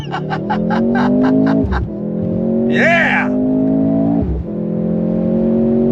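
A 2023 Mercedes-AMG C43 launches hard, its engine climbing loudly through the 9-speed automatic with two distinct upshift dips, close up inside the cabin, while a voice shouts briefly over the rising drone.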